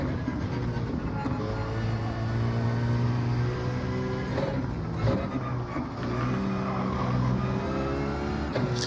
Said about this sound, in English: It's the GT Citroen Gr.4 car.